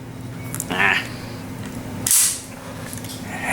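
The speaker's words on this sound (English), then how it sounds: "Make sure the decocker works." A Walther P-38 pistol's decocker dropping the hammer makes a sharp metallic click near 2.2 s, close and clear, preceded by a softer mechanical handling sound.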